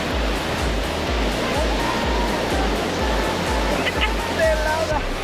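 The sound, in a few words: Atlantic Ocean waves surf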